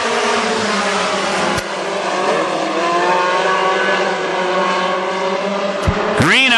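WISSOTA Modified Mod Four race cars roar through a heat race at Granite City Speedway, a loud, continuous multi-engine drone with shifting pitch and a close car sweeping past near the end.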